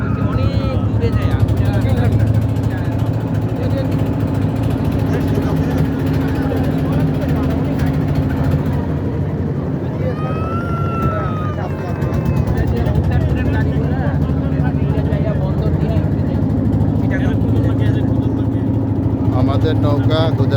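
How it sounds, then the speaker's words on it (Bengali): A river boat crossing at Gudaraghat, Nabiganj, Narayanganj, chugs along with a steady, loud low engine drone and water noise, while people's voices carry over it throughout. "আমাদের নৌকা গুদারাঘাটের ওপারে যাচ্ছে"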